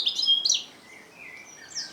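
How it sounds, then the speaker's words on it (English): A wren in a garden sings in bright, high trilling bursts, loud and close. Quick chirps are followed by softer, fading warbles with no voices. "And that loud noise is a wren."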